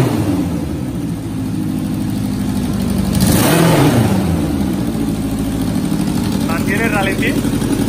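Honda CB 750 Daytona motorcycle engine, a CR750 cafe racer, running steadily nearby with a throaty low rumble and a brief rev swell midway; indistinct voices in the background.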